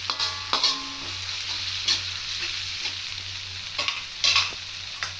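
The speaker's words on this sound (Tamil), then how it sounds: "இஞ்சி பூண்டு விழுதுகள் சேர்த்து இஞ்சி பூண்டும் அதோட வார போகிற வரைக்கும் எண்ணெயில் நல்லா வதக்கணும்" Ginger garlic paste sautés in hot oil with a steady sizzle while a utensil stirs and scrapes the pan in several sharp bursts; no voices.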